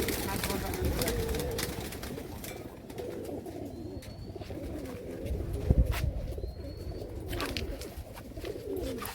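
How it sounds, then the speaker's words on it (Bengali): Local Rajshahi Giribaz pigeons coo in low, soft, murmuring tones at a loft, under steady nearby chatter between men, with a few faint distant bird chirps. "এই তো কবুতর এই কবুতরের বাচ্চা আমি 7 ঘন্টা করে রাখছি।"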